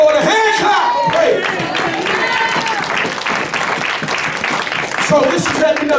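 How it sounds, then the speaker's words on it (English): Church congregation clapping hands during a worship service, dense steady applause filling the room with voices calling out over it throughout. "Somebody give the Lord a hand clap."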